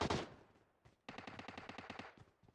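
Machine gun fire in the PUBG Mobile battle royale game: a loud opening blast, then a short pause and a rapid burst of evenly spaced shots, close and sharp, with no talk over it.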